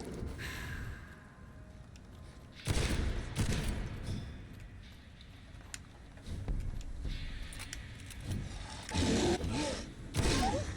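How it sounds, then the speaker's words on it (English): Shotgun blasts in the Vampyr video game, a few heavy broadband booms spaced irregularly among clanks and scuffles of combat, loud and close. "the shotgun's actually working"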